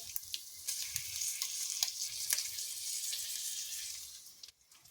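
Food sizzles and fries in a pan, a close, bright crackling hiss with scattered pops and stirring scrapes, steady throughout before quieting briefly at the end.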